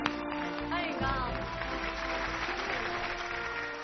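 Studio audience applause greeting a guest, editor of a book about Lei Feng, on a Chinese TV culture programme; steady, sustained clapping with musical accompaniment underneath, fairly loud and continuous throughout.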